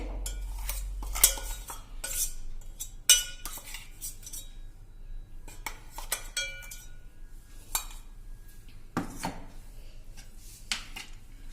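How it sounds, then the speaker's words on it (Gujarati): A metal spoon stirs garlic paste into oil in a pot before the stove is lit, making scattered clinks and scrapes against the pan over quiet background, with no talking. "હવે આમાં આપણે આ તેલમાં નાખી દેશું પેસ્ટ બનાવી છે ને લસણની એ"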